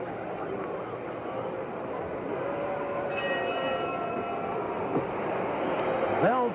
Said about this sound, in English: Bell for the end of round 1.